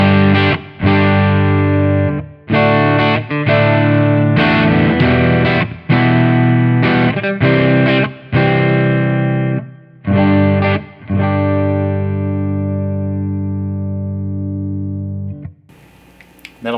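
A Harley Benton CST 24 Deluxe electric guitar on its neck pickup through a clean amp channel plays simple strummed chords, loud and close, each chord ringing before the next, ending on a long sustained chord.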